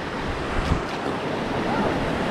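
Rushing water of the Middle Fork American River surges around a raft in California, a dense, continuous roar mixed with wind buffeting, close and loud with no clear talk.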